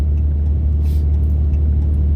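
Road traffic heard from a truck hauling a New Holland H7150 tractor near Regina, Saskatchewan, a steady low engine and road rumble throughout with a faint hiss passing briefly, no talk.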